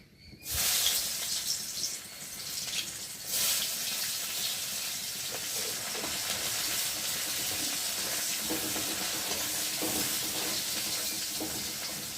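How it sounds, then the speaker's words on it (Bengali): Sliced onions fry in a wok of oil left over from frying fish, a loud, steady broadband sizzle that starts abruptly after a brief quiet moment and holds for the whole stretch without talk. "কড়াতে তেল আছে তেলের মধ্যে এখন আমি পেঁয়াজগুলো দিয়ে ভালো করে ভেজে নেব"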